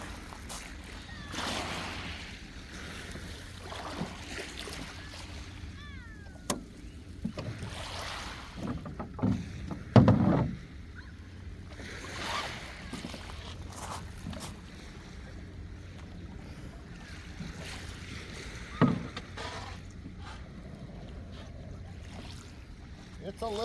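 A small Livingston boat moves across open water, with a steady low hull and water wash, brief bumps and splashes, and wind noise throughout.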